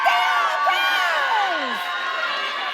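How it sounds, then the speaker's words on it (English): Crowd at a community celebration event cheering and whooping, with excited shouts and rising and falling voices standing out over a steady roar of the audience. "So give a round of applause for America"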